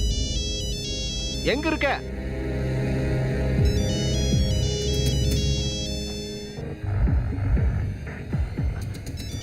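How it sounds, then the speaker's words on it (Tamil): A mobile phone ringtone plays as a repeating electronic melody with steady tones, fairly loud and near, while someone talks over it in a domestic scene. "உன் போன் அடிக்குது பாரு."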